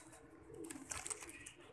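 Faint, soft cooing of pigeons, a brief low throaty call rising and falling over quiet background noise.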